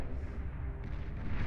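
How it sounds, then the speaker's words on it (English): A Fatboy unit explodes in the strategy game Beyond All Reason, a faint, muffled, rumbling boom rolling on for over a second, with a slight surge partway through. "that fat boy explosion is painful, though"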